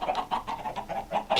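A chicken in a Minecraft-style video game clucks in quick repeated bursts, about eight short clucks in a row, close and clear.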